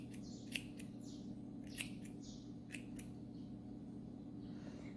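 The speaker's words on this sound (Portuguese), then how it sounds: "E cortando toda essa linha" Scissors snipping yarn while finishing an amigurumi rabbit: three or four faint, crisp cuts spaced about a second apart over a quiet, steady background hum.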